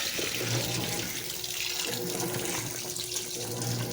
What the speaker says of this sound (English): This is a lot of times how I actually add water.